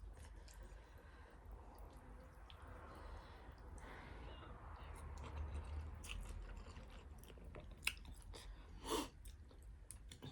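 Someone chews thin rice noodles close to the mic, soft wet mastication sounds over a quiet room, with a few small clicks and a brief louder bite near the end.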